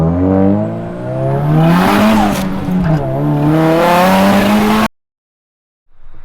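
A 1999 Nissan Silvia S15 with a big-turbo 2.35-litre stroker SR engine revs hard and climbs in pitch as it accelerates, loud and close, then cuts off abruptly before a brief rumble returns.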